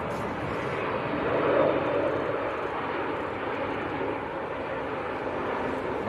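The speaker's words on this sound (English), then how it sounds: "Now, this is the A321neo of EasyJet." An EasyJet Airbus A321neo landing at Manchester Airport, arriving from Prague, gives a steady broad engine roar that swells slightly midway and holds, alone without talk.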